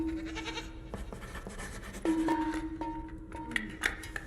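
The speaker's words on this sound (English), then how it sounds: "I still don't get why they put the goat sound in this." A goat scream sound effect in a video game rings out as a tonal, bleating cry midway through, set against a steady electronic game backdrop with a few sharp blips near the end.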